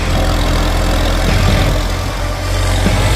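A tractor's diesel engine runs steadily on hand throttle during palm-plantation road work, giving a loud, even, low rumbling drone close by with no pauses.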